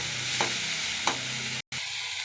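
Thin bitter gourd slices fry in a pan with a constant close sizzle. Two quick spatula scrapes break through, and a brief moment of silence cuts in near the end.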